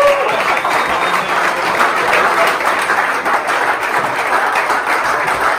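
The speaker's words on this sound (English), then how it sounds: "everybody give Coach Sawyer a big round of applause" An indoor crowd applauds a coach after a championship season, dense and steady clapping heard close up for several seconds, with a few voices faintly mixed in.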